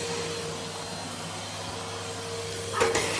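Vacuum cleaner running on a household floor during a house cleaning session, a constant loud motor whine and airflow hiss held throughout, ending in a brief bump or knock near the end.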